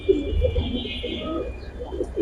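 Giribaz and racer pigeons give soft, low cooing calls, close and repeated over a murmur of background noise.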